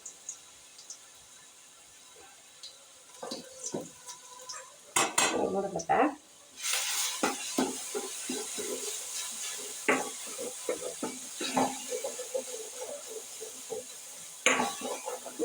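Hot coconut oil frying in a pan gives a light sizzle under frequent metal utensil clinks and scrapes against the pan, with a louder clattering burst partway through.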